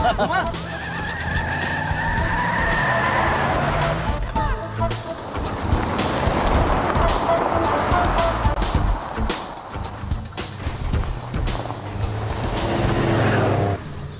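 A car in the video game GTA drives over rough ground, engine droning steadily with bursts of skidding and scraping, loud and continuous, with a background song playing.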